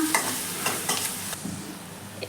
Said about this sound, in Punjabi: ਇਹਨਾਂ ਨੂੰ ਹੁਣ ਆਪਾਂ ਮਿਲਾ ਲਵਾਂਗੇ ਚੰਗੀ ਤਰ੍ਹਾਂ